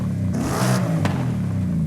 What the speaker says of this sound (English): Like I'm gonna rev it right now.